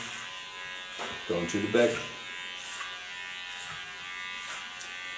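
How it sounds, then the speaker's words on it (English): Small electric hair clipper cutting hair at a salon, a steady close buzz running throughout beneath a brief spoken phrase. "The rest I do with a small clipper."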